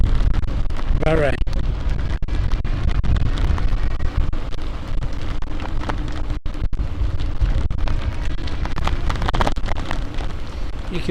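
Strong wind buffets a bicycle ride along the River Trent, a loud continuous roar and rumble throughout with brief gusty thumps, and a rider speaks over parts of it.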